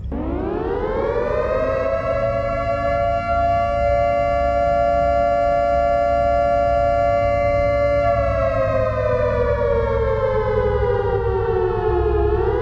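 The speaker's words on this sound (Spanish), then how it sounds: "las sirenas comenzaron a sonar." An air raid siren winds up into a loud, sustained wail, holds a steady pitch, then slowly droops and starts to rise again, over a low rumbling background.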